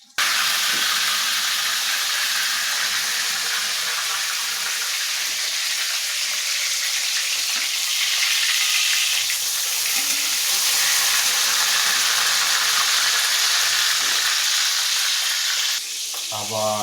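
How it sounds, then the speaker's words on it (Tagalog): Milkfish (bangus) frying in a home kitchen pan, a loud, steady sizzle and hiss that runs unbroken for the whole stretch with no talking over it. "Habang nagpiprito tayo ng isda"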